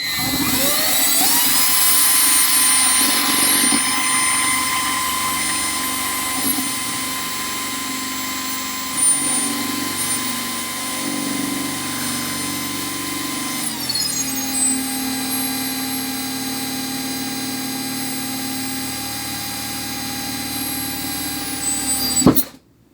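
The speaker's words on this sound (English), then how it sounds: "I'm just going to run the drill bit pretty fast, but try to take as much pressure off of it as possible so it doesn't drift" A drill bit bores a hole in a console build, spun fast with light pressure. A high, steady whine holds for about twenty seconds, shifts pitch midway as the bit bites, and ends abruptly when the bit pulls through.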